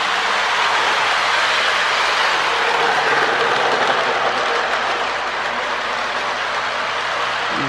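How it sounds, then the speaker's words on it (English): A Lionel model train races along its track at high speed, giving a steady, loud, close rushing rumble of wheels and motor that carries on unbroken and without pause, with no talking over it. "Wasn't really meaning to get the train running quite that fast."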